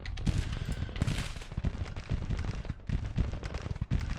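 Cannon fire in a Grand Tactician Civil War battle between armies, with repeated booms and crackling volleys layered densely together, loud and continuous throughout, giving a busy sense of battle.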